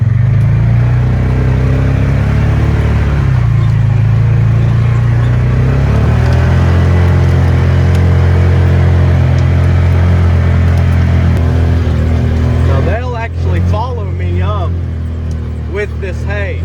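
A Polaris utility vehicle in four-wheel drive rumbles nearby with a steady low engine drone, and a voice talks over it. Animal calls break out near the end on a homestead.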